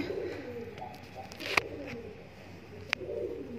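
Pigeons cooing at home where they nest, a soft low continuous cooing murmur with two sharp clicks or taps, no talk.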